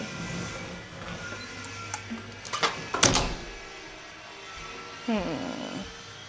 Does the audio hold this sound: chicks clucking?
no